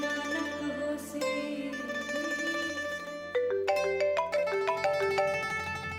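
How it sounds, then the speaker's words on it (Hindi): A mobile phone ringtone plays for an incoming call in a Hindi TV drama scene, a bright melodic tune of repeating notes that grows more insistent partway through, with no voices over it. "माँ का फोन है।"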